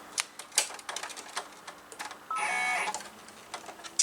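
An embroidery machine stitching a placement stitch in white thread for an in-the-hoop fabric straw case: quick rhythmic tapping clicks with a brief steady whirring burst midway, close and quiet.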